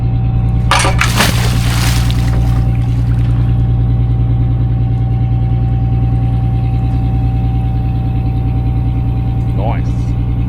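Boat motor running steadily while a new stabilizer with a stronger forestay is tested out on the water, a continuous mid-pitched engine hum with splashy noise early on and a voice briefly calling out.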